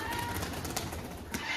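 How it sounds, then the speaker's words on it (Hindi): Pigeons just released on a rooftop coo softly amid a steady wash of outdoor noise, with a few brief louder bursts breaking through. "तो अब हमने कबूतरों को खोल दिया है यहाँ पे,"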